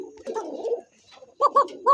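A racer pigeon coos in soft, close, throaty murmurs, one low rolling phrase followed by a few short pulsing coos.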